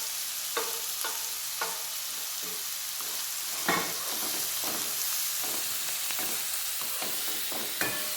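Crushed ginger and garlic frying with sliced onions in a pan, a continuous close sizzle broken by repeated stirring scrapes and clinks, with no voices.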